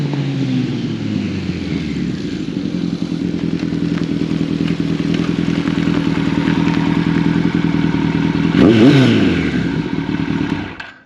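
A classic 1970s–80s Kawasaki KZ1000 motorcycle engine runs loud and close, its steady droning rumble rising as it revs, with a brief sharper surge near the end before cutting off.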